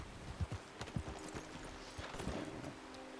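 Horse hooves clip-clopping at a steady walking rhythm in the video game Red Dead Redemption 2, a series of close, soft thuds over low ambient noise.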